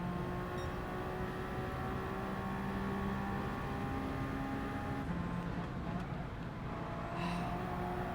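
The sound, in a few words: race car engine in video game Gran Turismo 7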